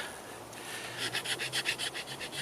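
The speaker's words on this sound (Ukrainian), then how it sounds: "А сам напільник по дереву ну, ковзає, просто навіть не чіпляє деревину." Wood file on a Ganzo G303 budget multitool rubbed back and forth over wood, a soft, rhythmic rasping of about a dozen quick strokes, close and fairly quiet, starting after a brief pause.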